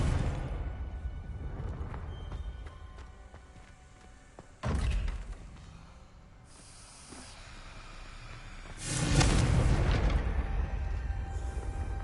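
A Confringo spell explosion in a video game, heard as a sudden booming thud around the middle that sinks into a low rumble, then a bigger, longer roar that follows and trails off under a steady hiss.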